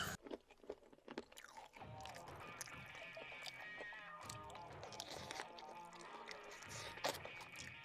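Close, loud chewing and crunching of fried murrel fish during an eating challenge, with irregular bites and wet mastication sounds throughout and no talk.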